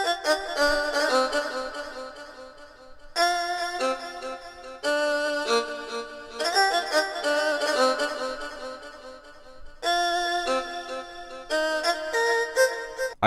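An uru instrument sample in FL Studio plays bright, sustained melodic phrases in several bursts separated by short gaps, moderately loud and alone.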